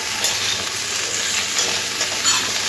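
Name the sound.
frying and stirring mixed vegetables for shukto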